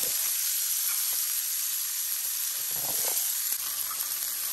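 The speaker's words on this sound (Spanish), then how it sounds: "aquí en esta misma voy a guisar los jitomates y las cosas para hacer mi otro guiso" Tomatoes and other ingredients frying in a pan that was just used for shrimp, giving a steady close hiss with faint stirring scrapes throughout.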